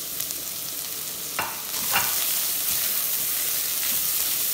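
Carrot and garlic sauté in a hot pan for a Christmas Greek-style rice, giving a steady close hiss. A couple of brief clatters or scrapes and a slight swell in the sizzle come partway through, with no talking.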